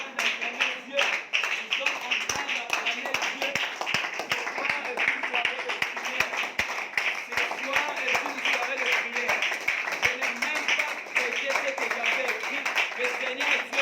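A church congregation claps steadily and rhythmically while acclaiming the Lord, the regular claps running beneath continuous loud voices.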